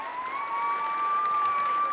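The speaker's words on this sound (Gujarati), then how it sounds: "આપણે સૌ ટ્રાફિક પોલીસને તાળીઓના ગડગડાટથી વધાવી લઈશું." A school audience claps steadily for a child in a traffic-police costume at a fancy-dress show, a continuous patter of many hands mixed with a steady high tone from the sound system.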